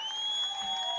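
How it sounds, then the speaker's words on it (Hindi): Applause from a crowd at a political rally greeting a speaker, a steady wash of clapping for about a second with a persistent tonal hum or feedback line running through it. "जोरदार तालियों से उनका इस्तकबाल कीजिए।"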